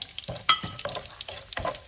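Rosemary drops into hot homemade hair oil with neem leaves, giving a soft frying sizzle broken by repeated stirring scrapes and clinks, close and fairly quiet.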